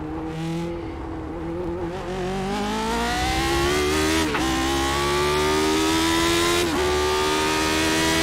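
Race car engine in the iRacing sim at Monza, revving loudly and continuously with rising pitch sweeps and two sharp throttle blips on downshifts, close and steady throughout.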